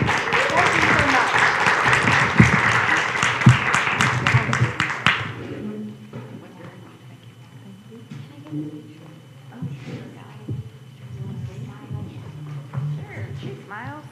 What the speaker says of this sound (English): So can we give our cooperative group a very round of applause?